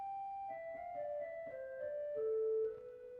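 Pipe organ harmonic flute and chimney flute stops sound a soft, pure-toned melodic line of held and stepping notes, quiet and close in a reverberant space with no talking.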